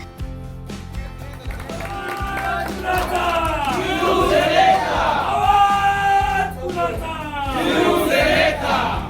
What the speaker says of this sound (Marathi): कुडाळमध्ये शिवसेना भाजप कार्यकर्त्यांनी एकच जल्लोष केला